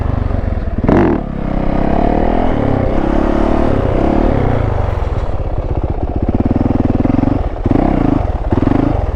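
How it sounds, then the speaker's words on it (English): A Yamaha YZ450 dirt bike ridden in circles gives a loud, continuous engine drone that rises and falls as the throttle opens and closes, with a few sharper revs. "This is my first time doing like circles on a big 450 like that."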